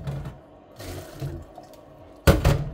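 Water is drained off boiled sweet corn while making a pasta salad. Quiet kitchen sounds build to a short, loud splashing pour near the end.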